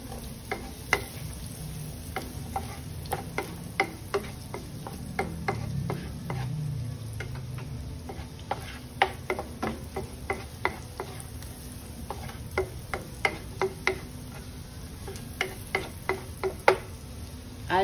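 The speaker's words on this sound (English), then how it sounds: "saute the garlic. And then the onions." Garlic and onions sauté in a pan with a soft, steady sizzle beneath frequent sharp clicks and taps of a utensil stirring against the pan, close by with no talking.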